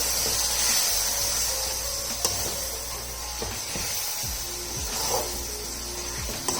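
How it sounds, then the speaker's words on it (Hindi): Chicken with biryani masala roasts in a pot with a steady hiss and sizzle throughout, broken by a few soft clinks of a stirring spoon, with no talking. "5-7 मिनट लगा के हम इसकी भुनाई करेंगे"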